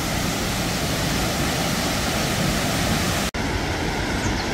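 Miin Waterfall in Tongni Canyon, Samcheok, where two large streams fall and meet, giving a loud, continuous rushing roar of water that cuts off abruptly near the end.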